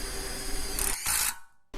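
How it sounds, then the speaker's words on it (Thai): An OSUKA OCID821U-D1 cordless impact driver drives a self-drilling screw into steel, giving a close, loud whirring buzz with two bright bursts of hammering before it stops, then briefly restarts. "ขันพวกสกรูปลายสว่านเข้ากับเหล็กแบบนี้ก็ได้นะ"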